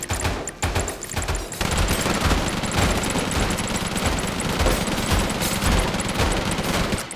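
In the video game Deadly Days Roadtrip, a minigun fires continuously in a dense, roaring barrage for several seconds, with layered explosive bursts mixed in and no talking.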